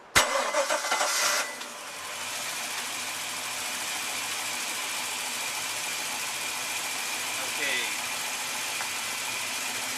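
A Volvo Penta boat engine cranks and fires, then settles into a steady, loud, even idle that runs for the rest of the clip.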